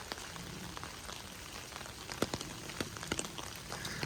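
Rain falls on a rainy day at the El Retiro estate at Bok Tower Gardens, a soft steady patter with scattered sharper drips landing on nearby surfaces, quiet and continuous throughout.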